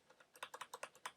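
Quick, light typing on a computer keyboard at a Linux bash command line, about a dozen soft clicks in a quick, uneven rhythm, close and alone.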